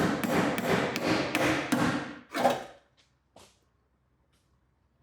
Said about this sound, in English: Pass me the hammer.